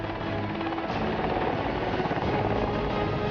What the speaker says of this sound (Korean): 애타게 기다린 만큼 UH-60 기동 헬기의 프로펠러 소리가 반갑다.